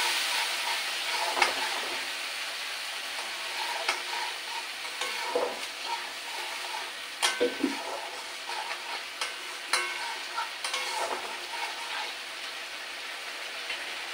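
Taro and shrimp curry being stir-fried in a pan, a steady sizzle broken by repeated scraping stirs and clinks of the spatula, close and moderately loud, with no talking.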